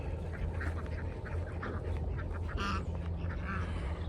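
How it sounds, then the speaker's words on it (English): Farm ducks quack repeatedly in short nasal bursts, close and fairly loud, over a low constant background rumble. "What are you eating, ducks?"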